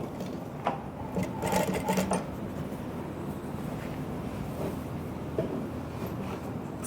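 A sewing machine stitches a fish cut skirt in a class, running in a steady close hum with a brief louder burst near the start.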